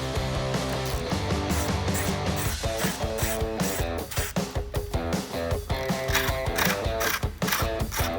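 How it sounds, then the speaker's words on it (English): A ratchet clicks rapidly and repeatedly while removing T15 Torx bolts from a Jeep Wrangler's stock headlight, close and loud, in bursts of fast ratcheting strokes with brief pauses. "You're going to need a T15 Torx bit."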